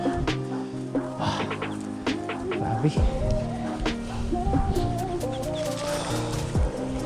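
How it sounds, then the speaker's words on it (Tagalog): Ducks quacking and clucking repeatedly close by, mixed with other fowl noises and some talking in the background. "Ito yung dala nating pato."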